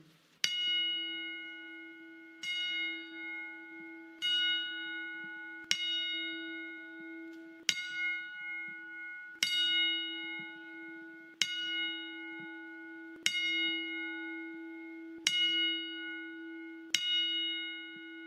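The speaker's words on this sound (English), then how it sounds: "Join us as we pay our respects with the 10-bell salute." A memorial ten-bell salute: a single bell tolls ten times at a slow, even pace. Each strike rings out clearly and decays into a sustained hum before the next one, with no voices over it.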